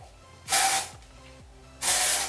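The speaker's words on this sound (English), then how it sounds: "I just like to spray a little bit of dry shampoo in my hair" Two short bursts of dry shampoo aerosol spray hiss loudly and close into hair, separated by a brief pause with faint background hum.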